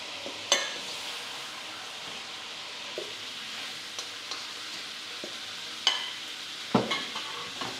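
Chicken pieces sear and brown in a pan for afritada under a low, even sizzle, with occasional utensil clinks and scrapes close by.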